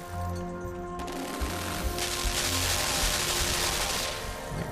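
Rapid gunfire rattles in the video game Limbo, a dense sustained burst of shots over a droning background tone, loud and close with no voices.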